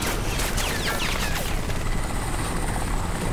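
Helicopter in the video game Crysis, a steady loud rotor and engine roar filling the whole clip, with brief sweeping whistles and chirps near the start over the continuous drone.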